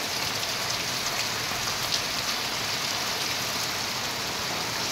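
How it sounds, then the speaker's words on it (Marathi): Heavy monsoon rain pours down steadily in the Konkan region, a dense, even hiss of drops on surfaces with no breaks and no voices. "आणि पाऊस बघा किती."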